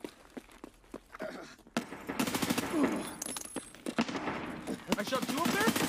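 Rapid automatic gunfire in the shooter game Escape From Tarkov: dense, loud bursts of shots that build after a brief lull and keep firing nearly nonstop, with faint voices underneath.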